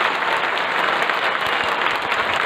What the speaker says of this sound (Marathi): एक वेळेस फक्त सगळ्यांनी अमोलसाठी सगळ्यांनी टाळ्या वाजवा